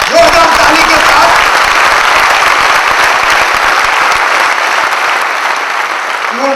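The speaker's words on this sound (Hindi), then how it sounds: "जोरदार ताली के साथ।" An audience at a training or motivational event breaks into loud, sustained applause that fills the room evenly for several seconds and then tapers slightly near the end.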